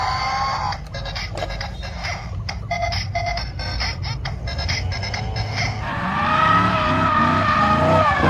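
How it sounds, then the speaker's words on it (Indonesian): An orange toy race car runs with a rough engine buzz and rapid clattering, rising into whining squeals with tire-squeal character toward the end, fairly loud and without talk. "Mobil balap."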